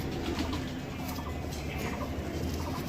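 Nazra Kaldum pigeon, a female, cooing softly amid steady background noise, the low coos faint and continuous with light ticking sounds mixed in.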